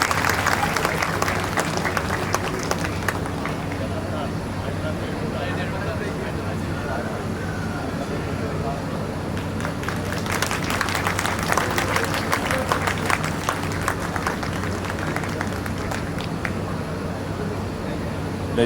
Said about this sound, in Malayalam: എല്ലാവരും ഒരു കയ്യടി കൊടുത്ത് അദ്ദേഹത്തെ സ്വീകരിക്കണം